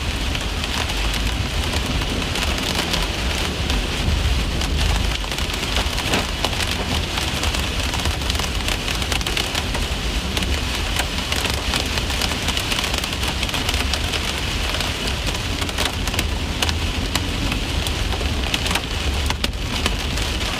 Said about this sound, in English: Coming into the hail now.